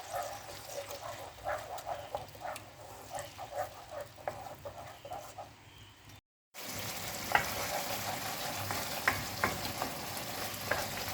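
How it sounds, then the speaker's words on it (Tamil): Blended chili paste sautés in oil in a pan for sambal udang, giving a steady close sizzle with scraping stir strokes, a brief break, then a louder spitting fry with sharp pops. "இந்த எண்ணெயெல்லாம் பிரிஞ்சு வர வரைக்கும் நல்லா இதை வதக்கிக்குங்க."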